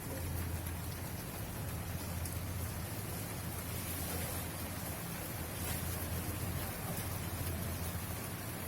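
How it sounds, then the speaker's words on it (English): Steady rain falls on a balcony in East Delhi, a continuous soft hiss of drops with no pauses, fairly faint and even throughout. "This morning we had a very good rain in our balcony."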